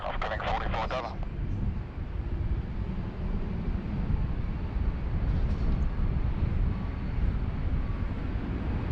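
Airliner taking off from runway 16 right at Sydney Airport, a steady broad roar with wind rumble heard at a distance, while a voice speaks briefly at the start.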